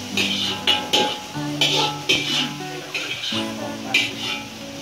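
Water spinach stir-fried in a pan in a home kitchen, with repeated scraping and clanking of a utensil against the pan at a steady rhythm over a faint sizzle, close and fairly loud.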